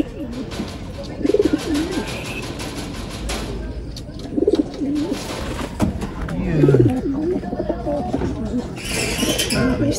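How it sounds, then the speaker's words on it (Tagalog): Racing pigeons coo repeatedly in a loft, their soft throaty calls close and recurring throughout, with people talking and some background activity mixed in. "Ayan mga kalapatids."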